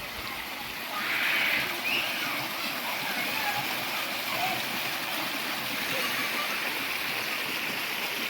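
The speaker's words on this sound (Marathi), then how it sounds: "असा हा एकंदरीत नदीचा प्रवाह त्यामुळे वाढतो आणि नदीचं पाणी जे आहे ते त्यामुळे वाढतो फ्लो बघा पाण्याचा" A Konkan river in Maharashtra swollen by the first monsoon rain, rushing in a steady broadband flow that holds even and continuous throughout, with no break.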